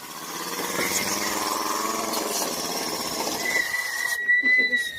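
An air compressor runs steadily in a home garage, a continuous mechanical drone with a rhythmic pulsing texture, fairly loud and close, and it cuts out near the end, leaving a few brief knocks.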